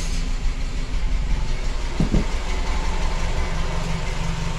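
A Volkswagen Gol with a fault in its ignition timing idles steadily, a loud, close, continuous low engine rumble with a brief knock partway through.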